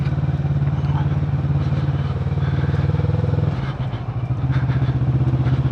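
A Kawasaki Vulcan S motorcycle engine drones loudly and steadily while riding, a low rhythmic throb with a brief dip in revs near the middle before it pulls back up.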